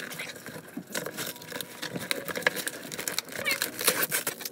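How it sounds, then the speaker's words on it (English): A shipping package of guinea pig supplies is torn and wrestled open by hand without scissors, giving bursts of crinkling, ripping plastic and paper rustle with a few soft thumps, close and fairly steady throughout. "So we're just gonna have to like manhandle it open."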